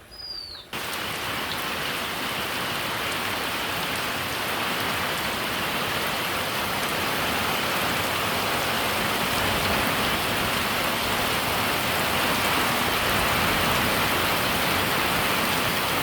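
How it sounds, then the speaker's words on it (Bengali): Heavy rain pours steadily on a Bengali village home, a dense, unbroken hiss that holds loud and even from start to finish after a brief quieter moment at the opening. "আজকে সারাদিন অনেক বৃষ্টি হইতেছে"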